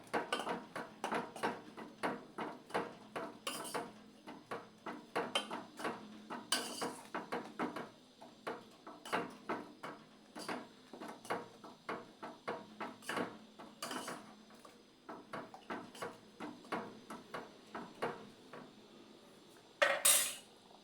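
Metal spoon clinks and scrapes steadily against a pan while chukke greens stir-fry (chukke pallya) is mixed, a dense run of close, sharp clatters with brief pauses and a louder knock near the end.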